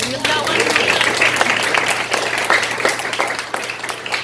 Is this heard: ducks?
no